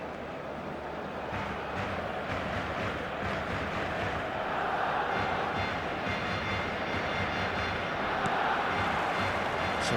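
A steady stadium crowd roar from an eFootball match, a football video game, a dense wash of massed voices that swells slightly midway and holds loud and continuous throughout.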